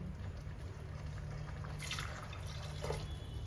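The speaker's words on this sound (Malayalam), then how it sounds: "1 ഗ്ലാസ് വെള്ളം ഒഴിച്ചു" Water pours into a pot of simmering black chickpea curry, making faint, quiet splashes and drips over a soft kitchen background.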